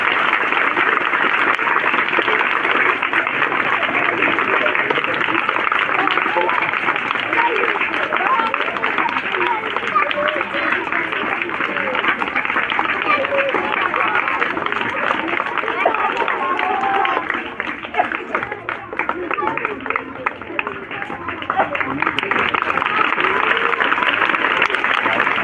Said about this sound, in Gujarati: તાળીઓનો ગણગણાટ થવો જોઈએ, રોકાવો ન જોઈએ ત્યાં સુધી